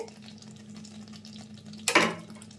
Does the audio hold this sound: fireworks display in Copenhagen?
no